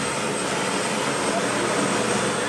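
Steady, loud engine roar and whine of an airplane heard up close, a continuous droning hum with no breaks.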